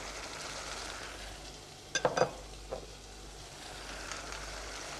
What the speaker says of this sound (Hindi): इस चिकन को तेज आंच पर अच्छी तरह से भूनना है हमने